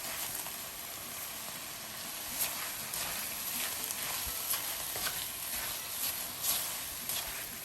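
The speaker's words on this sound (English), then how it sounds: "just to deglaze the pan a little bit, I'm gonna put also the Yeungs" Chicken and shrimp stir fry for spicy Thai basil pad ka pow sizzling hard in a pan after a splash of wine to deglaze: a constant bright hiss and crackle with faint stirring scrapes, no talk.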